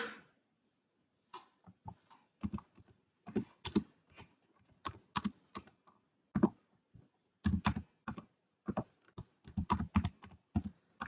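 Someone types a search query on a computer keyboard, with close, crisp keystrokes in irregular bursts and brief pauses.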